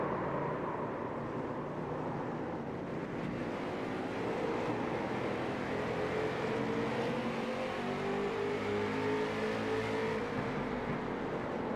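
Late model race cars run at Stafford in iRacing, with a steady, continuous engine drone and tire noise from several cars circulating together, loud and unbroken with no talk.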